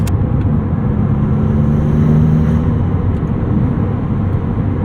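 A 2022 Maserati MC20 supercar engine drones loud and steady from inside the cabin while driving fast on backroads, a continuous deep rumble with no voices.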